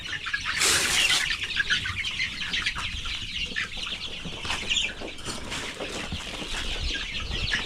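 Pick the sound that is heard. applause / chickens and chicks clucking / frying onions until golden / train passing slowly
chickens and chicks clucking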